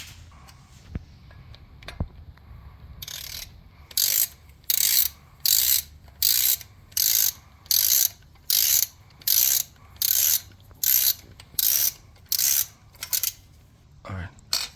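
A ratchet wrench works loose the caliper screws on a 2005 Bentley Continental GT's brakes, giving a steady run of about a dozen sharp, evenly spaced clicking bursts, close and loud, after a few quieter taps.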